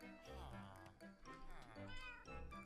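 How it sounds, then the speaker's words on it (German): Repeated synthetic cat meows from the video game Minecraft come in a steady run of closely spaced calls, loud and near, with a voice talking over parts of them. "hörst du meinen Katzen?"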